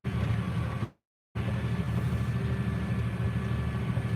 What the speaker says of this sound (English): Guy's about done with the Ted, the man on the tractor there.